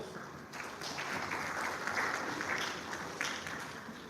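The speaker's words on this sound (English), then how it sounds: "Let us extend our appreciation with a heartfelt round of applause." An audience at a symposium applauds, a dense and steady wash of clapping that holds evenly for several seconds at moderate loudness, with no one speaking over it.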